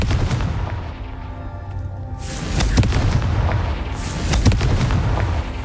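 Confringo blast curse explosions in the Hogwarts Legacy video game, booming repeatedly in loud, dense bursts over a rumbling game soundscape with no speech.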